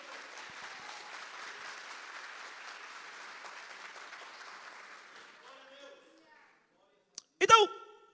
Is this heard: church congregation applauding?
yes